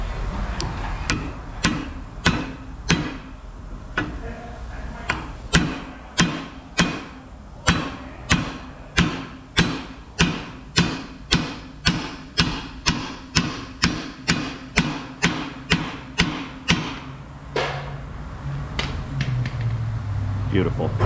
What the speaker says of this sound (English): I'm not going to hit this with the mallet until I feel that the shaft on the U-joint has engaged the needle bearings